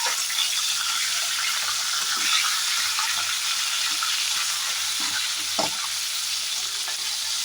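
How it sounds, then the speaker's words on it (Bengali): A fish head frying in hot oil in a pan, a close, continuous crackling sizzle with occasional soft stirring knocks, heard alone without talk. "তোমাকে পারফেক্টভাবে মাছের মাথাটাকে আগে ভেজে নিতে হবে"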